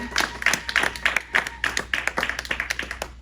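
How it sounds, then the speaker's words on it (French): A church congregation claps for the Lord in rapid, steady rhythm, the many hands close and lively throughout, with faint voices underneath. "Let's clap for the Lord."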